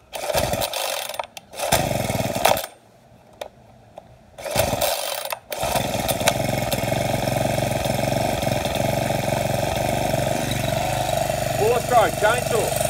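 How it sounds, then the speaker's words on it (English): A four-stroke chainsaw engine starts with a few stuttering bursts and cutouts, then settles into a steady, close running drone; a voice is briefly heard near the end. "Four strokes, chainsaw."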